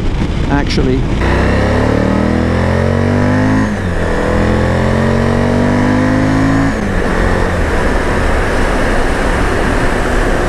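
A Suzuki V-Strom 1050 motorcycle engine revs hard past 6,000 rpm, its pitch climbing steeply through the gears with loud, close roaring sweeps and brief drops between shifts, while a rider speaks over it.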